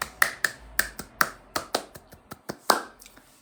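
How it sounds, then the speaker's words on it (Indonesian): Scout-style rhythmic clapping, the Indonesian tepuk pramuka, comes as a close series of about a dozen sharp claps in a quick patterned rhythm, with no talk over it. "Tepuk pramuka."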